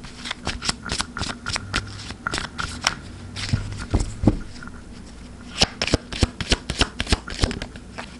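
A deck of tarot cards shuffled close up, a steady rhythm of crisp riffling bursts and flicks, fairly loud, repeating over several seconds with no voice on top.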